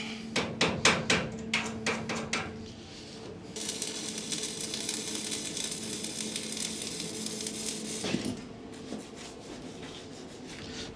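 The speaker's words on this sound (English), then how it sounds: "once it's finished cooling like this, you should be able to chip the flux away" A hammer chips welding flux off a fresh weld on a cracked 1975 Viscount caravan chassis, giving a quick series of sharp metallic taps at the start and a few more near the end, with a faint crackling hiss in between.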